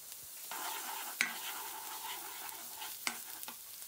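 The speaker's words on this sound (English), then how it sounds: "Lightly sweat the garlic until fragrant." Garlic sweating in hot oil in a wok makes a soft, continuous sizzle and frying hiss, broken by two sharp clinks of a utensil against the pan.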